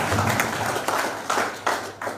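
A lecture audience applauding at a leadership and business workshop: a steady wash of clapping with periodic louder swells, close and continuous.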